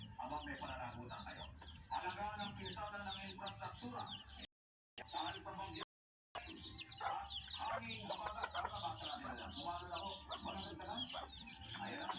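Chickens cluck and squawk busily close by, a dense overlapping flock chatter that drops out briefly twice before resuming.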